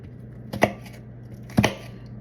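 Two sharp knife chops on a cutting board, spaced about a second apart, as vegetables are cut for a meatloaf; close and fairly quiet, no talking.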